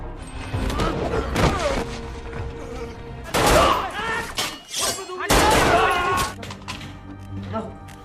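A shootout in an action film scene, with bursts of rapid gunfire, crashes and shattering mixed with music and effects, loud and dense, under a talking voice.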